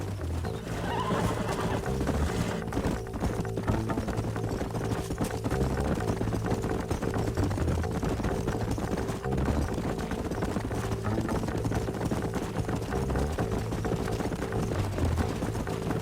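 Horses in the video game Red Dead Redemption neigh and whinny over steady clip-clopping hooves, loud and continuous throughout, with a low game soundtrack running underneath.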